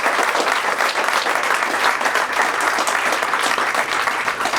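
An audience at a reception at Vesterheim claps warmly for the staff, a dense, steady round of applause from many hands filling the room throughout.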